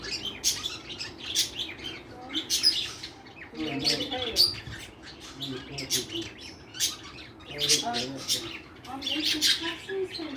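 Birds in an aviary chirping and squawking in frequent bright bursts at mid distance, with low murmuring voices underneath.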